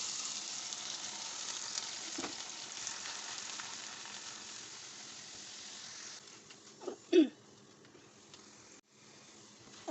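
Moong and chana dal frying in hot oil, a steady broad sizzle for most of the stretch that thins out toward the end, broken by a couple of brief clatters and a sharp utensil knock.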